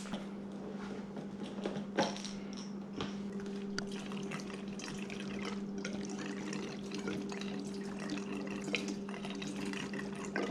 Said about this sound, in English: Now I just need to put some gas on.